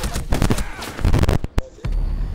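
Gunfire bursts in Rainbow Six, several sharp shots amid a busy, loud mix of game noise and voices.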